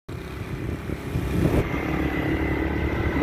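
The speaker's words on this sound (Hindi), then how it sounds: "मोटरसाइकिल थोड़ा आगे चला जाए।" A motorcycle engine runs steadily while riding on a mountain road through pine forest in the Sona Valley area of Azad Kashmir, with a continuous low rumble that swells slightly and holds through the clip.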